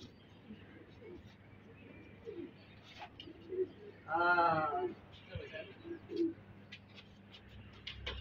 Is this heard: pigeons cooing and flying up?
yes